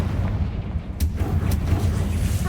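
Confringo blasting spell explosion in Hogwarts Legacy, a heavy rumbling boom with sharp crackling bursts, loud and close over dense battle noise.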